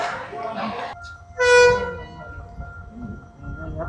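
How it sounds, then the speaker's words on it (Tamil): A train pulls into a railway station and sounds one loud horn blast of about half a second, rising out of busy platform noise with people talking nearby. "சரியா ஒரு 10 நிமிஷம் கழிச்சு ட்ரெயின் வந்துட்டு"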